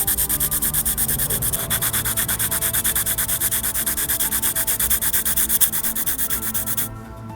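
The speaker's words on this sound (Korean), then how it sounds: "연필의 소리도 한번 들어보세요." Pencil strokes scratching steadily across paper during a watercolor character sketch, a dense, continuous rasping rub with quick repeated pulses, close and fairly loud, briefly dropping off at the very end.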